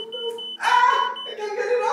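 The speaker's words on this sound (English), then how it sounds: "this is when my fire alarm is gonna go off" A home smoke alarm set off by smoke from frying chicken sounds a steady, shrill electronic tone, while a person talks loudly and anxiously over it close by.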